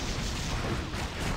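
Rapid gunfire from a weapon in the action role-playing game Torchlight II, a dense, continuous burst of shots and impacts filling the short moment with no pauses.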